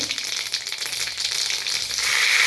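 Mustard seeds spluttering in a pan of hot oil for a Bengali lau shukto, a dense, steady crackle that grows slightly louder toward the end, with no voices.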